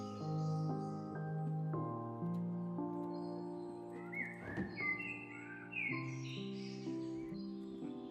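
Birds chirp and tweet over a sustained harmonic game soundtrack in Minecraft, with a faint thud partway through and scattered high calls, steady and moderately quiet.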